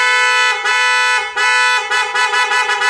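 Loud, close dual snail horn on a Volkswagen Jetta blares with a bright, harmonically rich tone, sounding in a long blast followed by a series of quick repeated honks.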